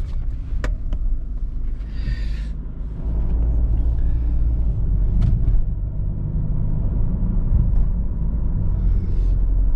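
Steady low rumble of a car with an N47 engine, xDrive and eight-speed automatic gearbox driving on a road, engine and tire noise growing slightly louder partway through, with occasional small clicks.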